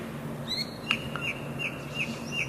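A bird gives a series of thin, high chirping calls, five or six evenly spaced notes over low ambient noise, moderately close, no voices.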